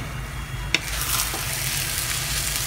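Hokkien mee noodles stirring and frying in seafood broth: a steady, close sizzle with a couple of brief scraping knocks as the noodles are mixed in the pan.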